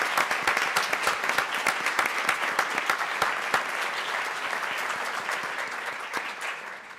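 Sustained applause from a sizable crowd at a town council meeting, dense steady clapping that holds for several seconds before easing slightly at the end, with no voices above it.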